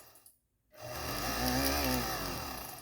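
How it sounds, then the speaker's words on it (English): A drill bores through a gemstone about an inch thick, kept running at home; after a short silence a steady, loud grinding whine with a low rumble rises and holds, wavering slightly in pitch. "So I'm just going to keep drilling."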